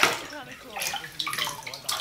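Someone moves around in a bathtub full of Orbeez, producing wet, squelchy sloshing and rolling bead sounds up close, with a voice speaking over part of it.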